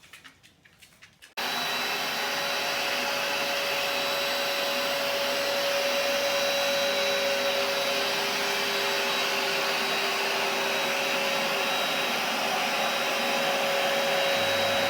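A carpet cleaner starts up after a short bump and then runs loud and steady, a constant close whine and roar with no pauses.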